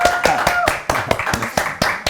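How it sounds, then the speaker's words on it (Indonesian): Studio audience clapping on an Indonesian TV talk show, a short run of distinct sharp claps from a small group, fairly close, with faint voices underneath. "Tepuk tangan dong!"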